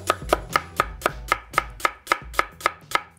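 A knife chops a cucumber on a cutting board with about a dozen crisp, evenly spaced cuts at a brisk, steady rhythm, close by and alone.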